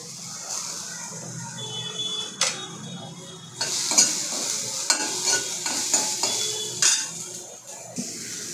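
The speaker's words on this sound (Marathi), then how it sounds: "यामध्ये आपल्याला कांदा टाकायचा आहे। कांदा लाईट ब्राऊन होऊ द्यायचा आहे चांगला।" Onion frying in a pan for a dry prawn chutney, a steady sizzle broken by repeated close scrapes and knocks of a spoon stirring against the metal, irregular and fairly loud, with no voices.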